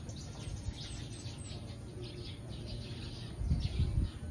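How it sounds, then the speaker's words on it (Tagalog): Birds chirp and tweet faintly in the distance outdoors, scattered calls over soft ambient background noise with a low rumble near the end. "Masarap kumain sa labas para marinig din yung mga huni ng mga ibon."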